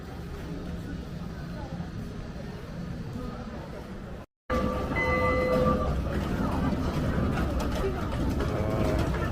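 Small ride-on mini train rolling past at an outlet mall, a steady rumbling clatter heard nearby under outdoor ambience with birds cooing and people talking.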